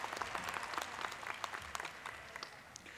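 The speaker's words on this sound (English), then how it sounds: "Let's give a round of applause for the honor guard from the Police Academy, Class 160, and Araceli" Audience applause fills the hall at a college commencement ceremony, continuous dense clapping throughout with a faint murmur of crowd under it.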